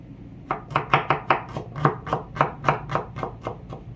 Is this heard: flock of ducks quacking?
no